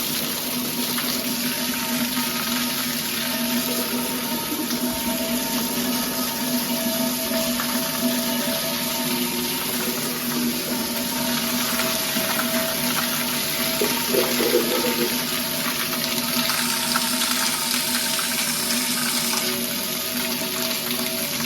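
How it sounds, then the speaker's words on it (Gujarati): Steady heavy rain pours down continuously, a dense wash of water noise at moderate loudness with no talk over it. "क्या तेज बारिश आ रही है,"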